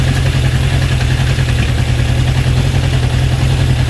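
A Honda CB750 K2 motorcycle engine idles steadily during carburettor balancing, a loud, continuous low rumble with an even, fast beat and no talk over it.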